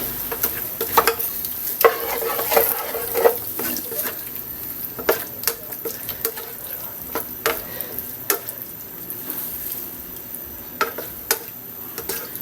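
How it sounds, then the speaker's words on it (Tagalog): Beef and button mushrooms in a pan after beef stock is added: a continuous close sizzle and simmer with frequent clinks and scrapes of stirring, no talk. "maglagay tayo ng konting beef stock"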